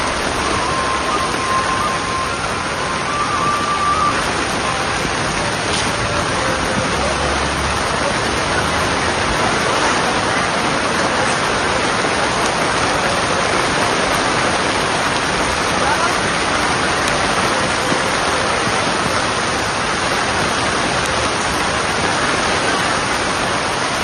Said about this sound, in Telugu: తిరుమలలో అరగంట పాటు ఎడతెరిపి లేకుండా భారీ వర్షం కురిసింది.